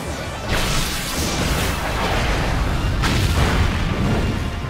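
Giga Impact attack in Pokemon Shield, a loud continuous crashing roar with booming low end and two sweeping whooshes, sustained at full intensity throughout.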